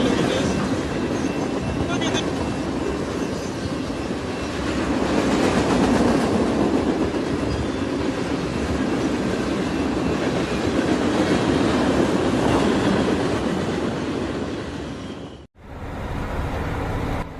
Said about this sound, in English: Military tanks ride atop a train